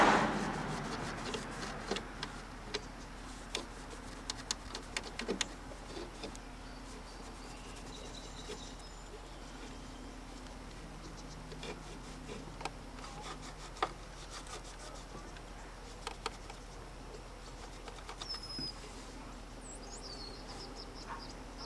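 Scrubbing a 1962 Zenith KPS80L portable record changer with a scrub pad gives soft, irregular rubbing and rasping strokes, fairly quiet and close, with scattered small clicks and knocks and no talking.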